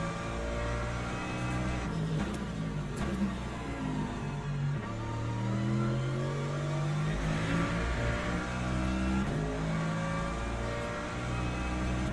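A Mercedes race car in the racing game Le Mans Ultimate, its engine revving and dropping through downshifts, rising and falling tones with sharp blips, loud and continuous for the whole stretch without talk.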